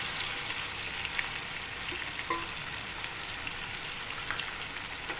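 Chopped tomatoes sauté in a pan for Indian tomato rice with chana dal, giving a steady soft sizzle and crackle with occasional faint pops and stirring clicks, quiet and close, with no talking.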